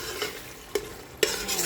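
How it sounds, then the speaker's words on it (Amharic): Onions frying in oil in an iron pot, with a steady sizzle under two sharp scrapes of a utensil as they are stirred. The sound is close, and no one speaks. "ሽንኩርትዬ በብረት ድስት ቀይሬያለሁ ማለት ነው።"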